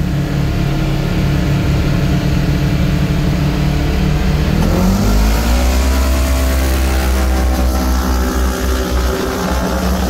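A turbocharged KRX side-by-side engine roars loud and close during a slow rolling-start drag race, a steady drone rising into hard acceleration with climbing revs and a gear change partway.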